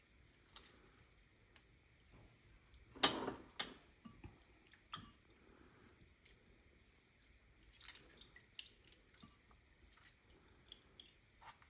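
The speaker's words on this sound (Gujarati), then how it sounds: "હવે એમાંથી આપણે પહેલા પાણી બધું નિતારી કાઢીશું પાલકમાંથી" Quiet dripping and trickling water with a few splashy bursts as water drains off boiled spinach into a sink, sparse and close.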